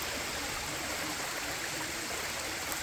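Water running down over hot rocks at Shoals Waterfall, a soft continuous stream-like wash heard alone at moderate distance, fairly quiet and even throughout.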